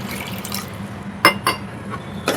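A few splashes and pours of water land in a pan of frying ground masala for Malvani-style misal, three short bursts over a faint background hiss.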